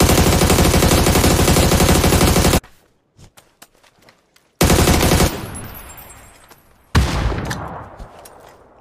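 Rifle fire in a video game rattles out in loud, sustained automatic bursts, broken by a short quiet gap with scattered clicks, then two more dense volleys that fade off.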